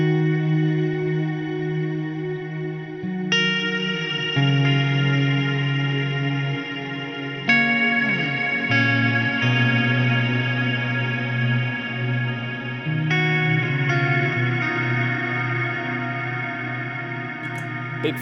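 An electric guitar runs through a pedalboard with a cloud reverb set to an infinite pad, sustained chords swelling into long, washy ambient layers that blend together continuously without talk.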